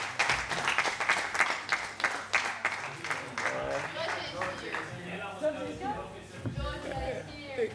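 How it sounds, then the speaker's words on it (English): Applause from the audience at an intern farewell ceremony, a burst of clapping at the start that fades under someone talking, followed by further speech and light room noise. "So maybe a round of applause for Daniela as well in her absence."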